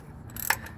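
A ratchet turning a short 15mm socket tightens a starter bolt on a 1999–2004 Dodge Caravan with a 3.3/3.8L engine. It gives a brief, close burst of metallic clicks under faint background noise.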